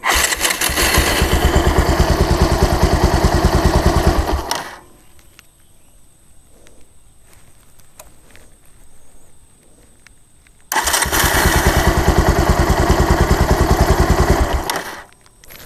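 A vehicle engine fitted with an automatic choke cranks and catches, running loud and steady for about four seconds, then cuts to near silence before starting again and running at the same even roar until it shuts off.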